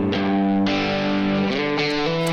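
Distorted electric guitar with a reverb plugin applied plays sustained chords that shift a few times, loud and alone with no talking.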